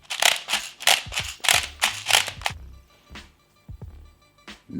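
A speed loader pushes BBs into the magazine of a Krytac Kriss Vector airsoft gun, a run of rhythmic ratcheting clicks and crunches followed by scattered lighter clicks.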